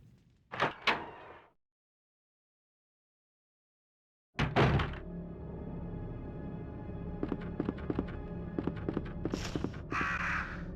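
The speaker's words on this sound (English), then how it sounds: "Birds." Crows caw in the Resident Evil 2 PlayStation game, with a few sharp calls near the start, then a loud door-like thud followed by a rhythmic run of clattering hits and further caws.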